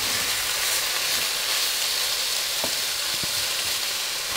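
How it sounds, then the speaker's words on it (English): Pork pieces frying in a pan for Filipino pinakbet, a steady loud sizzle with broadband hiss throughout and a couple of brief utensil clicks near the end, no talking. "Just trying to pick up a bit of colour on the pork until it's lightly browned."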